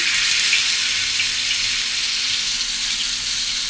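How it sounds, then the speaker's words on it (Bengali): Seekh kebab sticks frying in hot oil, a loud, dense, continuous sizzle close by, steady for the whole stretch with no talking. "তেলটা আমি গরম করে নিয়েছি এখন এর মধ্যে আমি শিক কাবাবের স্টিকগুলো দিয়ে দিচ্ছি"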